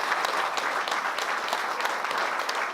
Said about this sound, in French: encore un tonnerre d'applaudissements pour les bénévoles